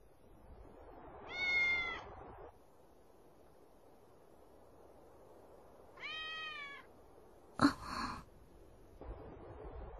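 A cat meows twice in a quiet indoor setting, each call drawn out and clear, with a short rustling noise after the second meow.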